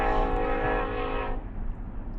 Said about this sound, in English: What a train.